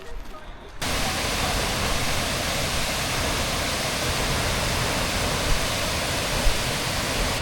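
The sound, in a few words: Mukanmane waterfall rushing water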